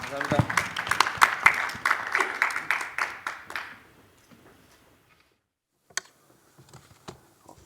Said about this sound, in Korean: 우리 유 교수님 큰 박수로 부탁드립니다.